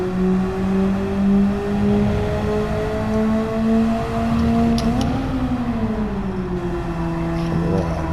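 A Mazda race car engine in Gran Turismo 7 holds a steady drone through a lap on comfort tyres, pitch rising and dipping gently with a brief surge near the middle, alone and with no talk.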